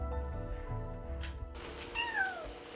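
A kitten meows at the entrance of an abandoned house on Geomundo island, a single rising-then-falling cry heard up close over a low background hum, with no one speaking.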